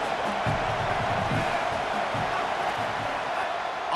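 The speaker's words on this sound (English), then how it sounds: "This crowd knows when to bring it." Stadium crowd noise from the EA Sports College Football video game, a steady dense roar of a cheering crowd that holds at an even level throughout, with no clear voices standing out.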